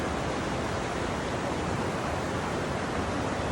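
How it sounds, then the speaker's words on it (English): A creek in Upper Bidwell rushes past in a dense, unbroken wash of flowing water, loud and steady from start to finish. "the creek is flowing so beautifully"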